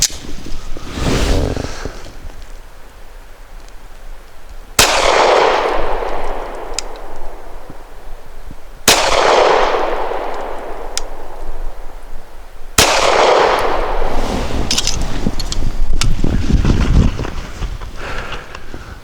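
A Walther Q5 Match steel-frame pistol fires Remington Golden Saber 124 grain brass jacketed hollow points outdoors, four loud sharp reports spaced a few seconds apart, each trailing off in a long echo over wind noise.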